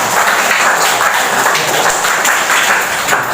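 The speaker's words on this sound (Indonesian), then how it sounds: "Tepuk tangan." Classroom applause during a chemistry lesson, a dense, loud wash of many hands clapping together continuously and close by for a few seconds.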